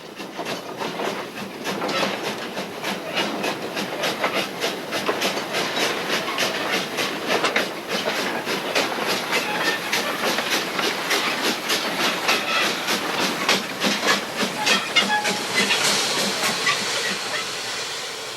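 A steam locomotive at work on a sugar mill railway in Java, a continuous loud hiss with rapid rhythmic chuffing and clattering wheels that builds steadily, no talk.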